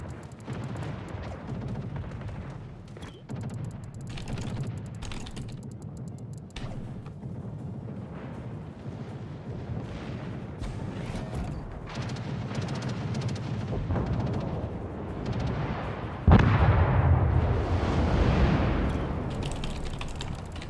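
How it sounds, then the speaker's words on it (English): Sustained anti-aircraft gunfire in a naval video game, a dense run of rapid thuds and cracks over a rumbling bed, swelling into a heavier burst of booms near the end, with no voices. "Provide anti-aircraft fire support."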